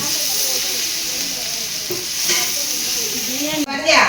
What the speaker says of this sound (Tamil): நல்லா வதக்கு கிண்டு கிண்டு கிண்டு